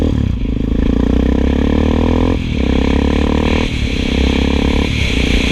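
A Hawk 250 motorcycle engine with a new E3 spark plug revs up strongly several times, each pull rising in pitch before a brief dip, loud and close with no talking.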